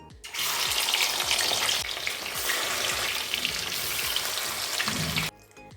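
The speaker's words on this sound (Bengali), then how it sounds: "এখন মাছগুলো তেলের মধ্যে দিয়ে আমি ফ্রাই করে নেব" Fish frying in hot mustard oil in a wok: a loud, dense crackling sizzle that erupts at once, holds steady for several seconds, then cuts away abruptly.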